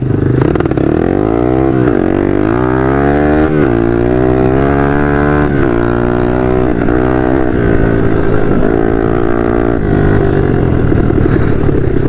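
A 150 RXF dirt bike rides along a path, its engine droning loud and close throughout, with rising and falling revs as the rider shifts and accelerates, alone without talk.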